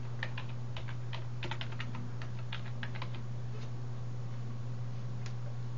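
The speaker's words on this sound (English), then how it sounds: "So I type in the name promethazine" A name is typed on an iPhone screen keyboard in a chemistry app, producing a quick run of soft ticking key clicks that thin out, over a steady low electrical hum.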